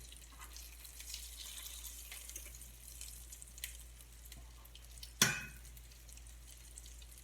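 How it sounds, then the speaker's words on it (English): Salmon fillet frying in a pan as its skin crisps: a faint, steady sizzle broken by one sharp clatter as the fish is flipped, then a brief louder hiss. "This salmon's just about ready to flip, so I'm going to flip it for you"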